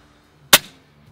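An FX Dreamline air rifle fires a single sharp, close crack at Egyptian geese during farmyard pest control, with a short decay and near silence around it.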